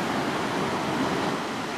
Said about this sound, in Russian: Океан прямо у наших ног, где-то там 2 метра внизу, грохотал и шумел.